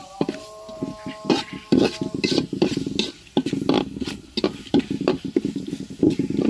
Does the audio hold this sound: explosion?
no